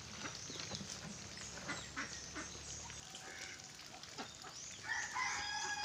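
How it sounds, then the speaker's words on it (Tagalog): Rhode Island Red chickens cluck and call at a rural feeding spot, a busy mix of short bird sounds at moderate distance, with occasional crowing-like calls and no talk. "magpapakain naman tayo sa ating Rhode Island."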